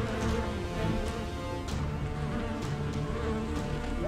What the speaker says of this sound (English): I don't know what's in there, but there are bees in here.